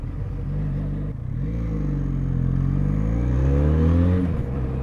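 On a road ride, a Benelli Leoncino 500 motorcycle engine revs and drops through gear changes, its close rumbling drone sweeping up in pitch, dipping briefly, then climbing again as it accelerates.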